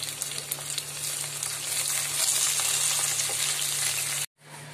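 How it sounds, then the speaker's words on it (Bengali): Potatoes and snakehead fish frying in hot oil with a steady, close, continuous sizzle and crackle that cuts off abruptly near the end. "একসাথে আমি আলুগুলো ভেজে তুলে নেব।"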